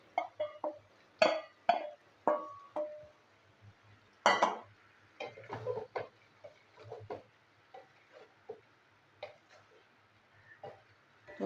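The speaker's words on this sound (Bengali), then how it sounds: "তো এর মধ্যে এবার দিয়ে দেবো আলু আলু ভাজা আর পটল ভাজা।" Fried potato and pointed gourd are tipped into a pan and stirred, giving a run of scattered clinks, taps and scraping knocks of a utensil against metal, fairly quiet and irregular.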